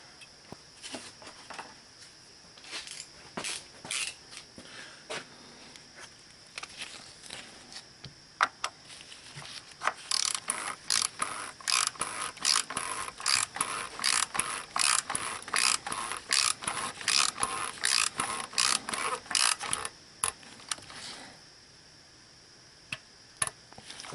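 A hand ratchet tightening a part during an oil change on a 2017 Chevy Trax: scattered clicks at first, then a sustained run of rapid, close, rhythmic ratcheting that stops abruptly.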